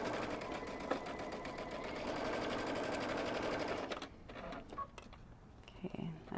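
A sewing machine stitches a seam on a kimono-style robe, a fast, steady mechanical chatter running for about four seconds before stopping, leaving quiet handling of the fabric.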